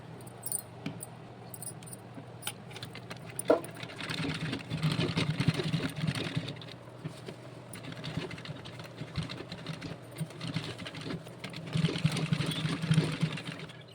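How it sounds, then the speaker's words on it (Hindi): A sewing machine runs in short bursts while stitching cloth flowers, its rapid mechanical whir rising and falling close by, with small clicks and pauses between runs. "जो कलर इस पे अच्छा लगे मिलता हुआ, उसी से बस इस पे बिल्कुल बारीक बारीक करके सिलाई लगा लूँगी मैं"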